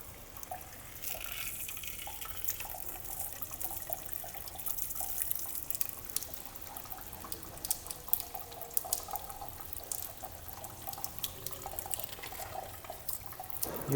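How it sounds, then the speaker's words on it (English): Clean water runs steadily over a homemade printed circuit board being rinsed after its ferric chloride etching bath, a quiet continuous splashing hiss from a nearby tap for the whole stretch. "remove the PCB from the ferric chloride bath and clean it using the clean water"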